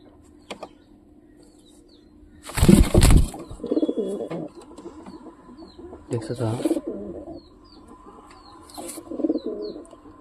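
Nesting pigeons coo in low, rolling phrases, with a sharp burst of wing-flapping early on and faint chirps scattered through a quiet room.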